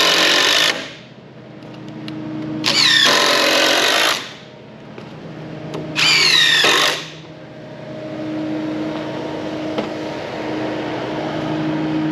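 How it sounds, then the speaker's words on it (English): A power drill driving screws into the strapping of a 10x16 wooden shed wall, with two loud whirring bursts of roughly a second each, separated by quieter background hum. "run a couple screws in and hold it tight"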